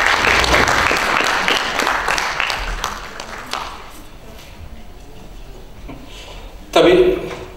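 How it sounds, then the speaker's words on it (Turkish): Loud, dense audience applause at a Turkish tribute ceremony, strong at first and then thinning out over several seconds into scattered claps, with a short loud burst near the end. "Alkışlarınızla buyurun efendim."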